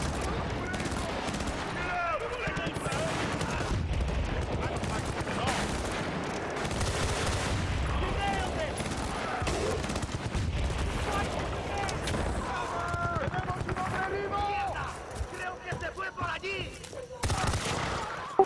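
Dense, continuous gunfire from Bad Company 2 fills the scene, with rapid overlapping automatic bursts and heavy booming shots close by, barely letting up, while voices talk underneath.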